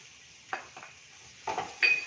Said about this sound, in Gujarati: હવે આપણે બધું શાક સુધારેલું હતું એને આપણે નાખી દઈએ.